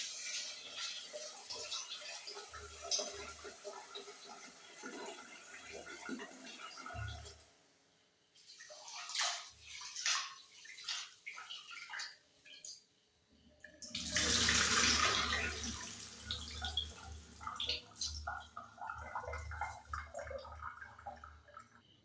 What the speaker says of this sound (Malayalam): പച്ചരിയിലെ അഴുക്ക് മുഴുവൻ പോകുന്നത് വരെ നന്നായിട്ട് വെള്ളം ഒഴിച്ച്